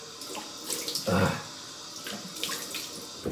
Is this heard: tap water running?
yes